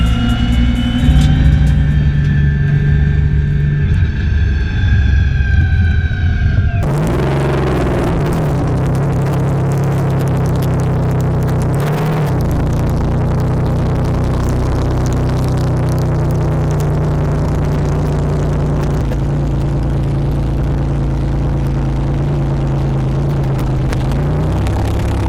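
The ETS Nissan GTR, making over 2500 hp, roars past on a high-speed pass at Shift S3ctor, a loud engine scream and a sudden surge followed by a sustained deep, heavy engine drone.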